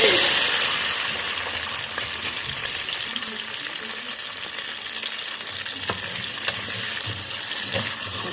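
Vermicelli fries in local ghee with a loud, continuous sizzle and occasional stirring clicks, steady from start to finish with no talking.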